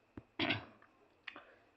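Mouse clicks on a website link, a few short sharp clicks spaced apart, close and fairly quiet with no talk over them.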